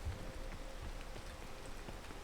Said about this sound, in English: it's actually a really positive thing that it's raining